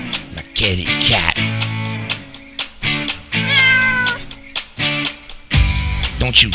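Cat meows, several short drawn-out cries, blend into a rhythmic music track with a steady beat and repeated harmonic stabs, playing loud and close throughout.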